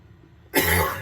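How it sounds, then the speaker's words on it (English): A single sharp cough from a man with a lingering illness, breaking abruptly out of near silence and trailing off with a rough, throaty rasp, loud and close. "So excuse the coughs."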